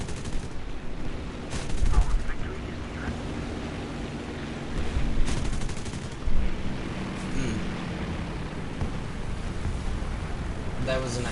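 Gunfire in the War Thunder combat game comes as bursts of cannon and machine-gun shots, with louder volleys around two, five and six seconds over a constant rumbling battle bed.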